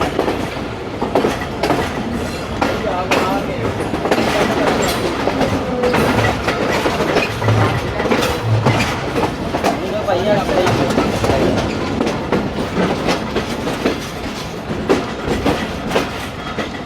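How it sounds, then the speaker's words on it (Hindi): Rehman Baba Express passenger train pulling into Lala Musa railway station in Pakistan at speed, a loud, steady rumble with clickety-clack wheel rhythm throughout, recorded up close from aboard. "काफ़ी स्पीडली अराइवल हुई है लाला मूसा रेलवे स्टेशन पर।"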